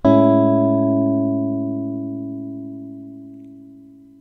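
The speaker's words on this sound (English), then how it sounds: "We'll have a listen to that fade out." A sustained, steady musical chord sounding alone in Cakewalk by BandLab, striking at once and then gradually fading out in volume across about four seconds.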